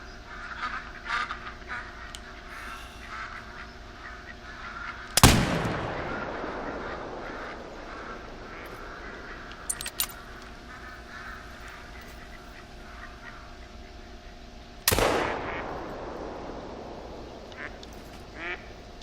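Ducks quack in a hunting video game while large bear territory is nearby; quacking runs through the background, interrupted by two loud gunshot-like blasts with long decays.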